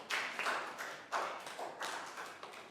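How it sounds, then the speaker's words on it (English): A small class giving a round of applause, a handful of sparse, uneven claps in a quiet room rather than a full ovation. "And another big round of applause for everybody, because you all did great."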